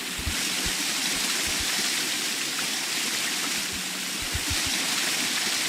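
Loud, steady flowing water fills a Morrowind video game scene, a dense continuous rush like a stream or waterfall, heard close and alone with faint low thumps underneath.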